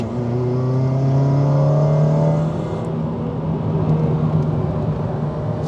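A Honda Civic Type-R accelerating hard on a road, engine note rising loud and close through the gears, then settling into a steady cruising drone.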